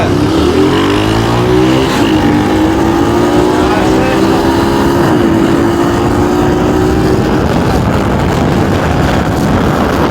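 A handmade single-cylinder 300cc motorcycle races a twin-cylinder Ninja 250, engines droning loudly with rising and sliding pitch as they accelerate together, steady and close.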